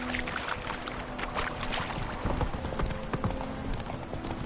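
A horse's hooves clip-clop in a steady galloping rhythm in a video game, moderately close, with faint background ambience under the repeating beats.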